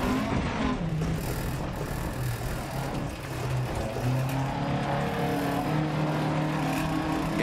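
A rally car in a racing video game, driven with manual gear shifting, its engine droning loudly and steadily with rising and falling pitch as it revs and changes gears, no speech over it.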